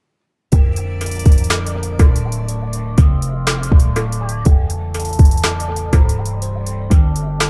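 A hip-hop beat produced in Logic Pro X, with booming bass kicks and crisp hi-hats and snares in a steady, repeating loop that starts after a brief silence and plays loud throughout.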